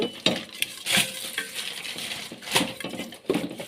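Meat in a pot is stirred with coriander powder. A metal spoon clinks and scrapes against the pot in irregular bursts over a faint sizzle, close and fairly loud, without talking.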